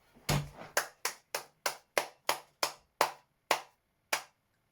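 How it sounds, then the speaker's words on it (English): One person claps slowly and steadily, about eleven sharp, evenly spaced claps, close and alone in a quiet room. "Round of applause."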